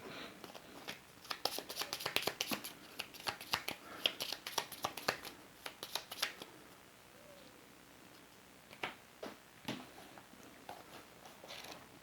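Playing cards riffle-shuffled back into the residence deck during a solo tabletop session of This War of Mine board game, a dense burst of quick crisp clicks and flutters for about six seconds, then a few sparse taps, close and fairly quiet.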